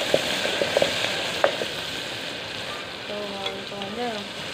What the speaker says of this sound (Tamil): இப்போ வெங்காய தக்காளியெல்லாம் நல்லா வதங்கிடுச்சு